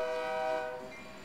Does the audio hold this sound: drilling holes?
no